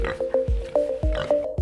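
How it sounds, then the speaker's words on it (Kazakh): A piglet's short grunting oinks repeat in a quick series over a steady musical tone in a children's animal-sounds rhyme, fairly loud and close. "Торай қорсылдайды."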